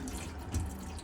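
A tap runs in a 2012 AutoTrail Comanche motorhome with its water pump switched on, a short, close, steady splash of water into the sink.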